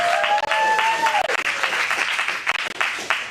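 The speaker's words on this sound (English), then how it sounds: "one last round of applause for all the comedians that came on" An audience at an adult acting-class script showcase in a Phoenix studio gives a warm round of applause for the comedians, dense clapping that thins out toward the end, with a whistle near the start.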